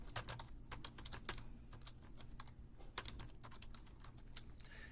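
Quick, crisp keystrokes on a computer keyboard as a file name is typed, tapping in an uneven run of clicks close by and fairly quiet.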